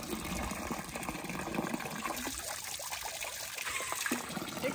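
Drinkable mountain river water trickles and babbles steadily outdoors, a continuous moderate stream with no voices over it.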